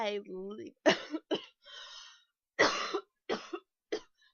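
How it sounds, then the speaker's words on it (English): Several short, harsh coughs come in bursts, with a brief voiced sound before them, close to the listener. "I don't know why I'm coughing so much."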